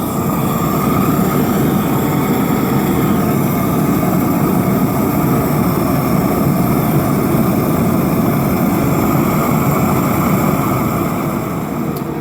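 A heating torch roars loud and steady like a small jet engine, a constant dense rushing blast that holds without pause, used while rebuilding a PC200 excavator's wrist twist.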